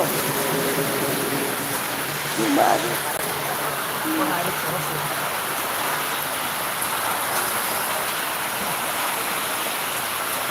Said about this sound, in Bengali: বৃষ্টির মধ্যে কাজও করতেছি বৃষ্টিও দেখতেছি